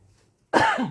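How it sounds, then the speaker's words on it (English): A single short, sharp cough after a moment of near silence, close and fairly loud. "Pardon my cough."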